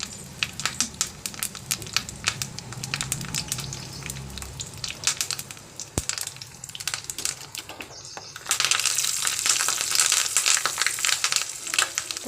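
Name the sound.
tempering of garlic, mustard seeds, cumin, chillies frying in oil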